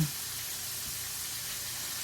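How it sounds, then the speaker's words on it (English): A steady, even sizzle of pounded pork loin chops frying in a hot pan, close and continuous, with no voices. "I'm almost through frying."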